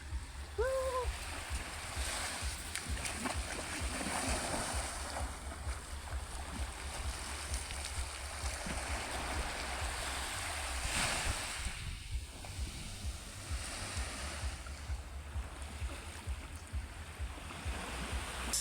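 Sea waves on Siargao beach make a constant wash of surf with gusty wind buffeting the microphone, a steady, unbroken roar across the whole stretch.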